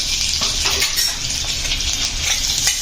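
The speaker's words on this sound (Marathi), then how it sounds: "येथे मी उभा चिरलेला हा कांदा घेतलेला आहे आणि उभा चिरून घ्यायचा आहे आपल्याला आणि तो आपण यामध्ये घालून छान एक ते दोन मिनटं आपल्याला परतून घेणार आहोत" Lengthwise-sliced onion frying in hot oil in a pan, a loud continuous sizzle with spatula stirring and scraping clinks, close up and without any talk.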